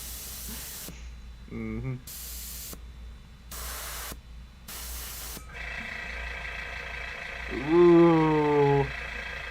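An airbrush sprays paint on Warhammer 40k Centurion miniatures: several short hissing bursts, then a longer steady spray, close by, with a brief murmured voice between them.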